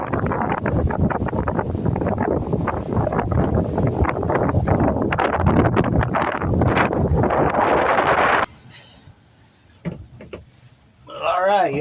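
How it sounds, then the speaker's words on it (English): Strong wind buffets the microphone outdoors during a chilly, windy solo truck camping setup in Texas, a loud, roaring gusty rush for about eight seconds before dropping to quieter rustles and a brief final gust. "The sun's out this way, but the wind is bad."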